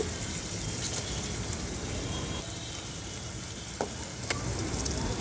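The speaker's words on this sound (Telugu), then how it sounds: "అవి ఫ్రై అయిన తర్వాత శుభ్రం చేసుకున్న చేప ముక్కలు అయితే వేసుకొని" Fish pieces fry in a pan of ginger garlic paste with a steady, close sizzle and crackle throughout and a few sharp pops. No one speaks.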